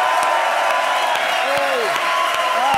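A studio audience applauds and cheers at a late-night Spanish comedy show, a steady dense wash of clapping and whoops that stays loud and close throughout, with a few voices calling out over it.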